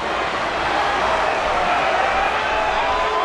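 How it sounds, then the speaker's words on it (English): A dense, steady roar of a large wrestling-arena crowd cheering in the video game WWE 13, continuous and loud throughout. "Would you listen to this crowd show their appreciation for these amazing competitors?"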